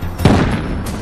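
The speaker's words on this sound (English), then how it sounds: "A tried and true method of delivering these surprises is the flashbang grenade." A single sharp, loud blast hits suddenly, followed by a rumbling decay that fills the rest of the moment.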